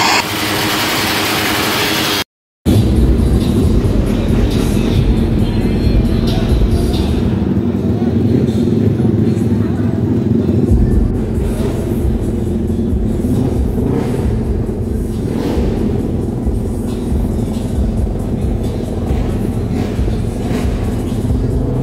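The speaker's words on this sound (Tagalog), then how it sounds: "at this time mga part ay nag-warm up na sila sa kanilang mga motor." Motorcycle engines warming up at an outdoor motor show, a steady loud rumble and idle that runs continuously throughout, with crowd noise and voices mixed in.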